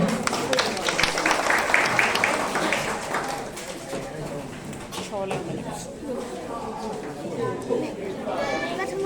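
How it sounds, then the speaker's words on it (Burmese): Applause at an award ceremony for a girl taking second prize: a dense patter of clapping that is strongest early on, mixed with crowd chatter and voices throughout. "သမီးလေးအိမ်ချမ်းမြတ်အတွက်လက်ခုပ်တန်လေးကြားချင်ပါတယ်"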